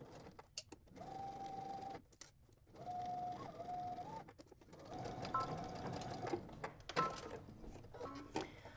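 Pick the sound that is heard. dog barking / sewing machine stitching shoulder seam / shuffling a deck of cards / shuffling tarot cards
sewing machine stitching shoulder seam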